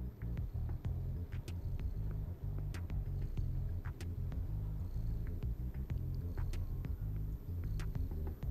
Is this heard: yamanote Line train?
no